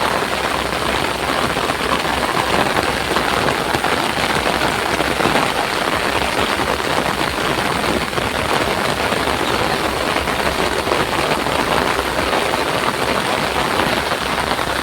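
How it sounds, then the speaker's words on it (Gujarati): Heavy rain pouring down during a sudden village downpour, a dense, loud, unbroken hiss of drops on surfaces that holds steady throughout with no voices. "મિત્રો જોઈ શકો છો વરસાદ તો બૂમ પડાઈ રાખ્યો હતો"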